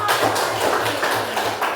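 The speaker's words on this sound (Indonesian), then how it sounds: "tepuk tangan dulu" A class applauds during an Islamic religious education lesson: a short, dense patter of hand clapping at steady volume, swelling in loose rhythmic pulses for under two seconds.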